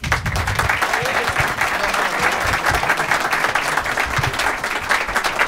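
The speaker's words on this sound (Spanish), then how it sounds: "Un fuerte aplauso para Jaime Ferraro" A studio audience gives a strong, steady round of applause for guest Jaime Ferraro on a comedy talk show's Valentine's special. The clapping is dense and even, close and loud, with no break across the whole stretch.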